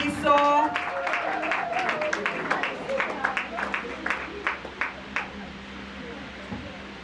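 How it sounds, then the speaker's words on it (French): Applause from an audience at a certificate ceremony for workshop participants, a burst of claps with some distinct individual hits, fading over several seconds, with a voice briefly heard at the start. "Applaudissons."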